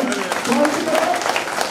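Audience applause rises at a political office inauguration for a visiting party official, a crowd clapping steadily while a voice carries over it.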